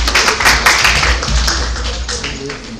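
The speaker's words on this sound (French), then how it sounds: "On va acclamer lentement" Audience at an international nurses' day hospital presentation applauding slowly, a dense, loud, sustained clatter of hand claps close by, with a faint voice underneath.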